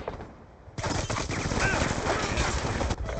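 Dense automatic gunfire in Black Ops II, a loud rapid burst that starts abruptly and rattles continuously for over two seconds.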